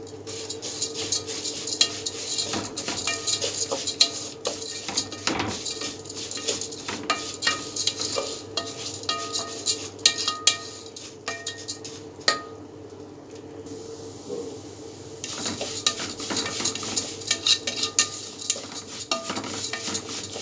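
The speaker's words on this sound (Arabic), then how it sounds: "ايدنا في الشعرية على طول تجليب يا حبايبي عشان تطلع كلها حمرا ولون بعضها" Vermicelli browning in a pot, stirred continuously with a utensil scraping and clinking against the metal pot over a soft sizzle, close and fairly quiet, with irregular knocks throughout.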